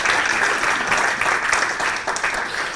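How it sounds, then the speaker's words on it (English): Audience applause at a motivational bootcamp event, a dense steady wash of many hands clapping at close range that holds at full strength for about three seconds, fading slightly near the end. "Give me a round of applause."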